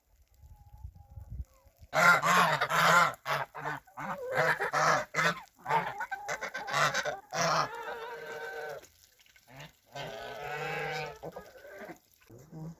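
Swans feeding in a rural winter setting give loud, repeated nasal honks in close, overlapping bursts, with short gaps between calling runs.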